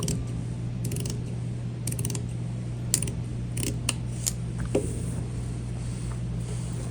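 Scissors cutting a non-slip mat for a sewing machine foot pedal, a series of crisp snipping clicks at irregular intervals over a steady low hum, close and moderately loud.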